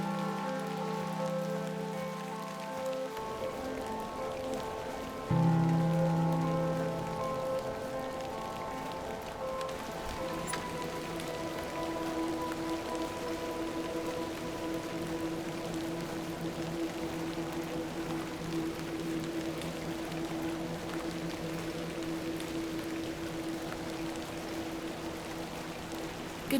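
Steady rain falls in the video game Hobbs Barrow, a constant soft patter that runs throughout under tonal background music, with a brief louder swell partway through.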